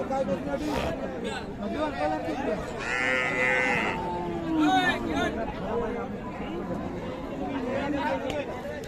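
Cows and calves low and moo at a busy rural cattle market, mixed into a steady background of crowd chatter and people talking.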